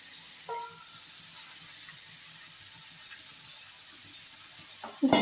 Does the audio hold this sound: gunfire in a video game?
no